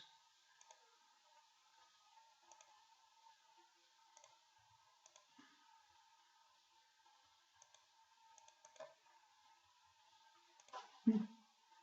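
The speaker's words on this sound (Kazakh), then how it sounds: "Бір рет шертеміз." Quiet, sparse clicks of a computer mouse sound at irregular intervals in a still room, ending with a louder bump.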